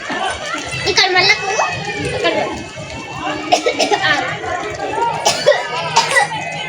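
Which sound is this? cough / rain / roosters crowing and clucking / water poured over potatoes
cough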